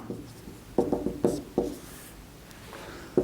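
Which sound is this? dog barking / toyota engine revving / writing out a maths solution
writing out a maths solution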